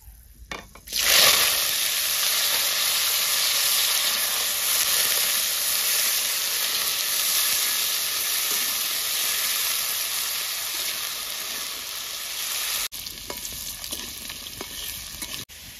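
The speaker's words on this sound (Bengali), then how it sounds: "আলুটা ভাজা হয়ে গেছে" Potatoes frying in mustard oil with nigella seeds and dried red chilli in a wok give a loud, continuous sizzle that starts abruptly after a second and holds steady, thinning out near the end.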